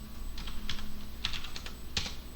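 Keys clicking on a computer keyboard as commands are typed into a terminal, a handful of quick, light taps in short bursts, close and fairly quiet, with no talking.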